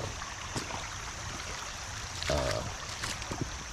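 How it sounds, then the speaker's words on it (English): A creek running full after overnight rain gives a steady, close rushing and trickling wash, alone with no voices. "the creek is flowing pretty good this morning"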